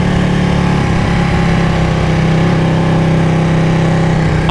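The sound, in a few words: Ducati Panigale 1199 motorcycle engine with loud stock exhaust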